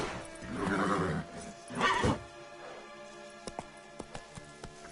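Roach, a horse in the game Witcher 3, neighs twice in loud whinnies, followed by a series of light clip-clop hoof steps.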